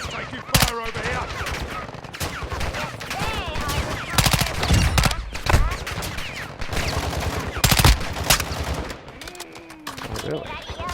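Gunfire in the Call of Duty video game: repeated rapid bursts and single shots crackle over a busy game soundscape for the whole stretch, loud and close.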